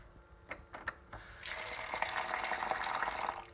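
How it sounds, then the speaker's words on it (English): A few light clinks of coins at first, then a steady stream of water pours and splashes into a container over coins and rocks, running continuously until it stops near the end. "I'm going to fill it with water about a quarter of the way up"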